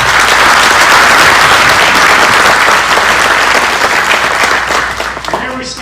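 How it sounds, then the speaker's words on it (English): A dinner crowd at a Scout award event in Campbell County, Tennessee, applauds its community partners with loud, dense clapping that holds steady before tapering off at the close. "Please join me in a round of applause for our community partners, WLAF, the Volunteer Times,"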